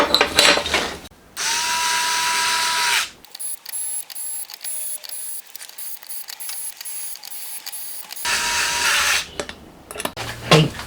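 A head cover is fitted and tightened onto a handmade twin-cam 16-valve four-cylinder model engine cylinder head, giving a run of small close metallic clicks and ratchet-like ticks between stretches of louder background noise.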